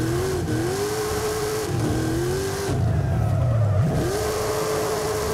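A Hennessey Velociraptor 6x6 drifts in Forza Horizon 5, its engine revving loud and close in rising and falling sweeps with a dip and a surge midway, no speech.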